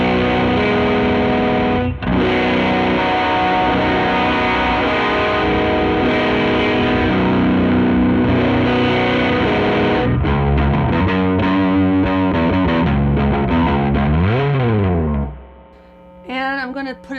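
Baritone electric guitar played through a raw toggle setting, sustained distorted chords ringing loud and steady, then shifting to bending, swooping notes before a brief quieter pause and a fast run at the end.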